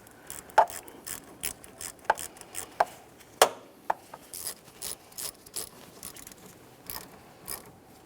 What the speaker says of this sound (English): tighten your 10mm headed mounting nut